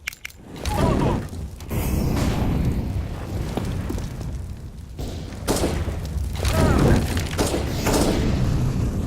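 A Molotov cocktail shatters and bursts into flames in CS:GO, giving a sharp crash and then a sustained roaring whoosh of fire, with several further loud impacts and bursts amid busy combat noise.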